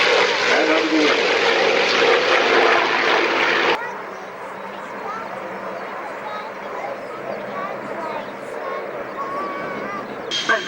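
A propeller airplane flies an aerobatic display at the Biggin Hill Air Fair 2003 air show. Its engine drones loudly at first, then drops to a more distant, fainter whine with shifting pitch as it maneuvers.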